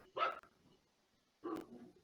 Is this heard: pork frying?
no